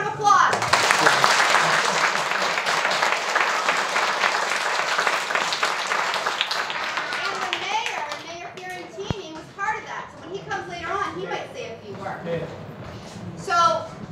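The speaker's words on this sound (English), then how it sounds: "Big round of applause." A school assembly audience at Tilton School in Haverhill, Massachusetts, bursts into loud, dense applause for about eight seconds. The clapping then dies away into scattered claps and children's chatter.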